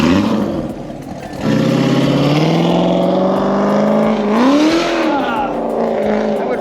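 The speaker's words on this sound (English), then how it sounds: "Car sounds good. All right, enjoy. Yeah, there it is. Wow, that does sound good." A Corvette Z06 engine roars loudly, revving up and holding a high, sustained growl that climbs and dips.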